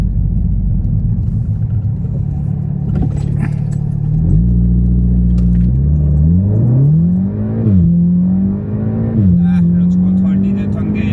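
A 400 bhp Audi S3 8V Black Edition accelerates hard, its loud, close exhaust and engine droning and rising in pitch through several gear changes.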